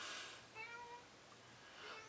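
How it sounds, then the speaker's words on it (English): A house cat meowing indoors, a couple of soft, drawn-out mews close by but faint, with quiet room noise around them. "Silence, kitty!"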